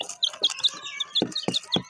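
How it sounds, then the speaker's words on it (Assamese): Young birds chirp in quick, high-pitched bursts, close by, repeating several times in a row. "চাইছে টাৰ্কি মুৰ্গীবোৰ"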